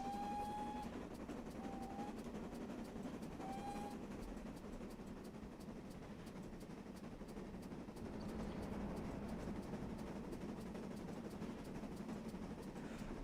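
Steam locomotive 2999 Lady of Legend running at speed on a mainline trip, a steady loud rumble and rattle of the train throughout, with a few short whistle-like tones near the start.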